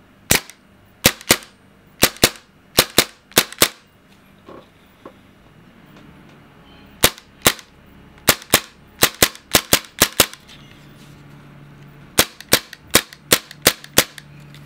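A silver Maruzen Walther PPK/S gas blowback airsoft pistol dry fires in quick bursts of sharp, loud cracks, several shots per burst with short pauses between groups.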